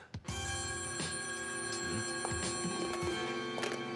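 A telephone bell rings continuously, steady and bright, after a brief thump at the start, with no one speaking.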